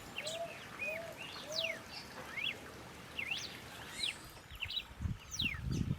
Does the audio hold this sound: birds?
yes